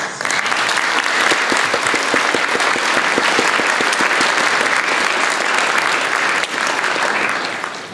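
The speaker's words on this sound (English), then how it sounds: "let's just give them a round of applause." A gallery lecture audience gives a round of applause, dense sustained clapping at full strength for several seconds before tapering at the close.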